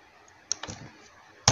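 Computer mouse clicks while designing a burial souvenir, a few sharp close taps, one soft click followed by a louder one near the end, with no talk.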